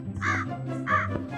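A crow in a Minecraft mod gives two loud, harsh caws in quick succession, close and clear with no talking.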